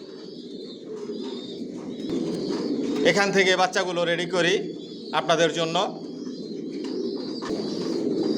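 Racing pigeons in a five-storey breeding loft coo in two loud bursts, close by, over a steady hum of birds, while someone talks throughout.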